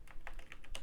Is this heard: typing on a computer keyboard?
yes